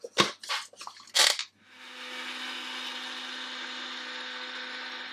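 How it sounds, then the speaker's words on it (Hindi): After a few sharp rattling clatters, an electric kitchen grinder runs steadily, grinding roasted dry spices into powder for a dhaba-style chicken masala. The hum is moderately loud and continuous, with no talking. "इसे ग्राइंड कर लेते हैं इनटू पाउडर।"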